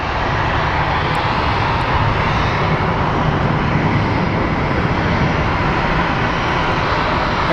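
A passenger airliner arriving from Des Moines, Iowa roars steadily at Phoenix Sky Harbor International Airport, its engines making a loud, continuous broadband rush throughout.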